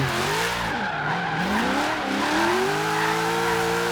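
In-game 1992 Ford Falcon GT drifting in Forza Horizon 3: a loud, sustained engine note rising and falling with revs while tires squeal continuously through the slide, no voices.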